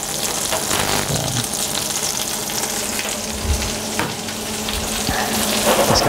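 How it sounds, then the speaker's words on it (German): Steady crackling sizzle of chestnuts frying in butter with sugar in a pan, with occasional soft scrapes and clinks of stirring throughout. "das Ganze wird in einer Pfanne angebraten im Butter"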